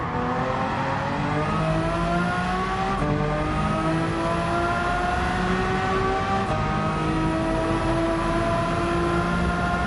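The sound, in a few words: car engine accelerating in the Gran Turismo 7 video game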